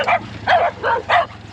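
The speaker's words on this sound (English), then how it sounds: "An army of dogs." Several dogs of a roadside pack bark in quick succession, four sharp close yaps in an uneven rhythm.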